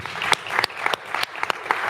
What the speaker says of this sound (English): I'd like everyone to join me in applauding our very engaging panelists.